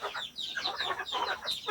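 Several chickens cluck in quick, overlapping bursts, close by and moderately loud, with no talking.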